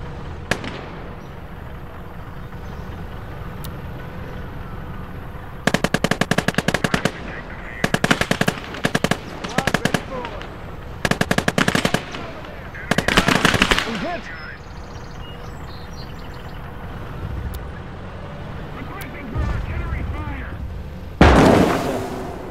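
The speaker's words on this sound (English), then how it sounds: "Incoming! That's artillery!" Artillery and gunfire in the video game Call to Arms: Gates of Hell: repeated loud bursts of rapid machine-gun fire in clusters, with heavy booming impacts near the end, over a steady battle rumble.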